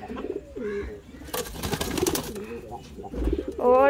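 Caged pigeons coo near the microphone in repeated throaty, rolling calls, with a burst of rustling or wing flutter partway through.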